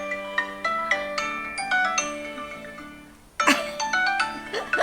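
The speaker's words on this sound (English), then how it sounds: "Double press the button on your tile to ring your phone." Smartphone ringtone set off by a Tile Sport tracker's button, a bright melodic tone sequence ringing alone, pausing briefly and then starting again loudly.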